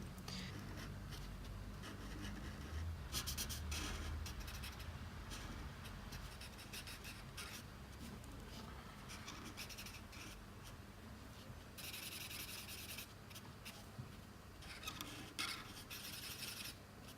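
A Vivid Pink marker is colored across a drawing on paper, with quiet scratchy rubbing strokes coming in bursts, some brisker and brighter than others.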